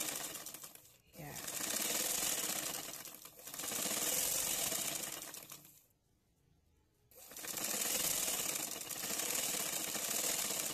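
A sewing machine stitching trouser fabric while tapering baggy pants into pencil trousers: fast mechanical needle chatter in several long runs with brief stops between them, fairly quiet and close, with a voice speaking in places.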